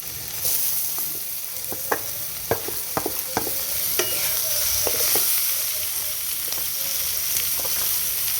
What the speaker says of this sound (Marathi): तर ह्यात आता मी आता हे टोमॅटो टाकणार आहे